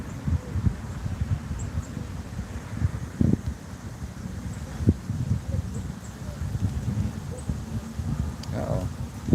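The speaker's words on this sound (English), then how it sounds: "It's wind. There's wind. Hey, wind, chill out." Wind buffets an outdoor phone microphone in a steady low rumble with occasional stronger gusts, running throughout at close range.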